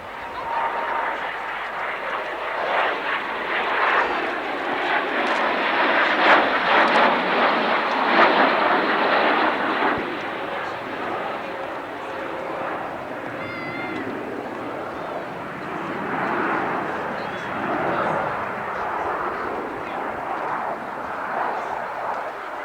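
An English Electric Canberra jet flies at an airshow, a rushing engine roar that swells and fades as the aircraft turns, with faint announcer talk and crowd sounds in the background.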